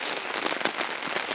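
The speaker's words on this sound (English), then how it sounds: "But right now, just chilling in the rain." Steady rain pattering at a backpacking and fly-fishing camp in spring, falling on tarp and hammock gear with a dense, continuous hiss and occasional louder drops nearby, no voices.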